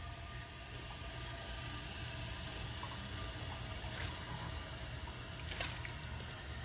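The tank of a Kohler Highline Ingenium toilet refills after a flush. A faint, even hiss of running water continues unbroken, with a couple of brief ticks near the end.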